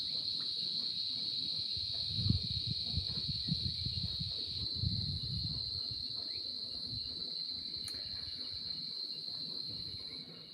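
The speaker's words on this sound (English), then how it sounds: "How are the cicadas?" Cicadas chirring in a constant high-pitched drone, steady across the whole stretch, with low rumbling background noise and no talking.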